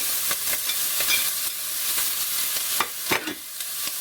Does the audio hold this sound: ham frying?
yes